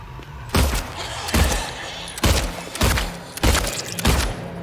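Gunfire in the Silent Hill 2 Remake video game, five or six heavy, booming shots spaced about a second apart, each with a thumping low-end punch and a short decaying tail.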